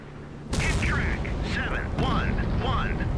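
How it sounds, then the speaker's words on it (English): In the naval combat game Sea Power, a sudden loud explosion bursts in and leaves a dense, rumbling roar, while a person talks over it. "That was a big explosion too,"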